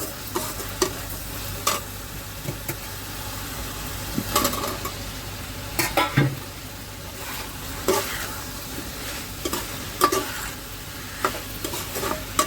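Boiled baby potatoes stirred into sizzling sautéed vegetables for potato rice, with repeated scraping stirs against the pan over a steady fry, no talking.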